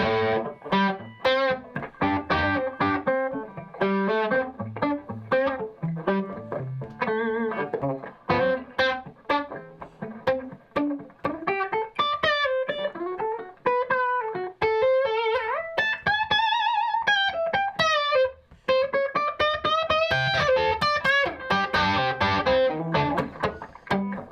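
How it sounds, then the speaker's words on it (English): A clean electric guitar runs straight into an amp with no delay or reverb, playing a steady stream of plucked notes and chords that stay loud and close throughout. "Playing spanky, naked, clean, no delay, no reverb."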